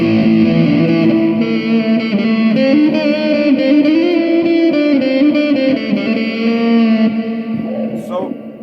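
Heavy metal electric guitar tone played through a Zoom G3Xn multi-effects unit with its Church reverb, sustained distorted chords ringing loud and continuous for several seconds before trailing off into a spacious reverb tail.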